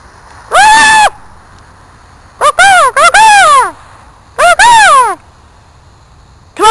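A person imitates bird calls with loud, close cawing cries in several bursts, a single call then a pair, then another pair with silence between.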